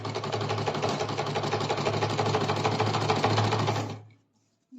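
A sewing machine runs steadily, stitching the hem of a child's bodice with a fast, even whirring rattle, then stops abruptly near the end.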